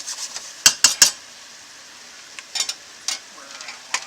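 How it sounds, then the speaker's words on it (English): Hungarian sausage soup is stirred in a pan, with a few sharp scrapes and clinks of a utensil against the bottom, close by, then quieter scattered scraping over a faint simmer. "So we're just going to stir this up"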